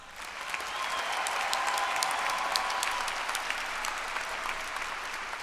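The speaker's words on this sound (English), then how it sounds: "Please give our honors graduates a round of applause" Sustained applause from a large commencement audience honoring graduates, a dense, steady wash of clapping that swells in and holds evenly throughout at a moderate distance.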